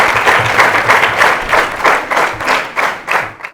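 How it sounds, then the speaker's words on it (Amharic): A studio audience at a children's quiz show applauds a contestant, a continuous wash of many hands clapping with rhythmic swells, fairly close and loud, with no talking over it. "ኮምፒውተር ኤ አጨብጭቡለት።"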